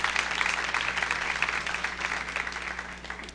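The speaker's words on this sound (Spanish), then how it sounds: "Dale un aplauso de bendición al Señor." A church congregation applauds in blessing to the Lord, a steady crackle of many clapping hands throughout, moderately loud with a faint hum beneath.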